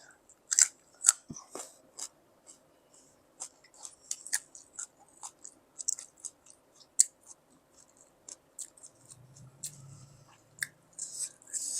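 Large, crisp fig fruit is bitten and chewed up close, making repeated sharp crunches and crackly chewing in an irregular rhythm, with no talking.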